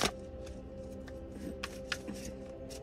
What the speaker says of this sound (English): Okay, one quick shuffle.